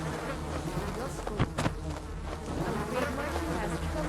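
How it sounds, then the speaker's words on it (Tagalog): Flies buzz persistently in a forest area of a Filipino horror video game about a flood, a steady close droning hum that carries on throughout with no one speaking. "puro langaw naririnig ko,"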